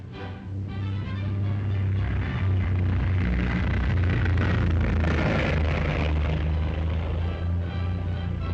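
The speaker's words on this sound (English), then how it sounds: "Serving as a feeder liner is a beautifully shaped aircraft, the new de Havilland Heron." A de Havilland Heron feeder airliner flies past at the 1950 Farnborough show, a steady propeller-engine drone that swells and fades over several seconds on old, muffled film audio, with no talk.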